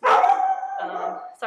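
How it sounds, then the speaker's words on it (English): A dog indoors at home gives a loud, drawn-out howling bark that trails off, then a brief second yelp, as a voice speaks briefly alongside. "that was my dog. I think someone's home."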